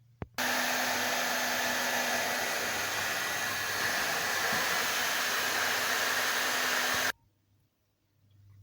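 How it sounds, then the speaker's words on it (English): A heat gun blasts hot air onto a Showa damper. It makes a loud, steady roar that runs for about seven seconds and then cuts off sharply. "we'll need the trusty heat gun again"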